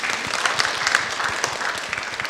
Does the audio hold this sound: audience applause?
yes